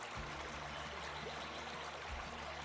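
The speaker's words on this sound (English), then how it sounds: "Fast water." The fast-flowing River Wye rushes in a steady, faint broadband wash with a few soft low thumps underneath.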